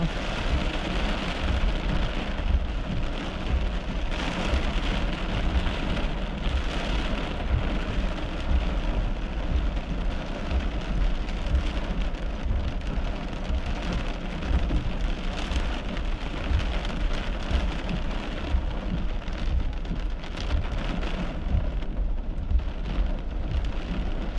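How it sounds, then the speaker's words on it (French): Steady, dense patter of small hail and heavy rain during a storm, continuous broadband hiss throughout with faint distant rumbles, no voices. "Petite grêle."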